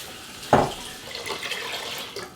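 Tap water briefly filling a measuring cup in a home kitchen, a short splash-like burst followed by a softer trickle lasting about two seconds.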